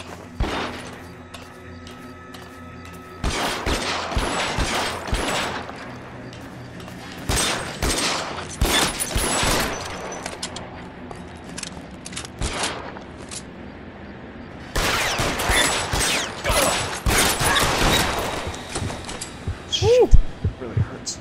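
Gunfire in the video game L.A. Noire comes in several loud bursts of rapid shots, separated by quieter stretches, with players talking over the shootout.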